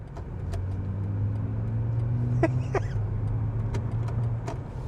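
A low, steady synthetic acceleration hum drones inside the cabin of a 2025 BMW M5 Touring in electric mode, holding a constant tone with a few faint clicks and brief rising chirps over it as simulated gears change.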